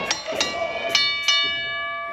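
A wrestling ring bell at an I Quit title match clangs several times in quick, uneven strikes, each leaving a bright ringing tone that slowly fades, moderately loud.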